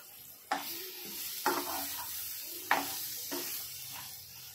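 Paneer cooked with vegetables in a hot pan for veg paneer biryani sizzles steadily while a spoon scrapes and stirs, giving several sharp stirring strokes over the frying hiss, with no voice.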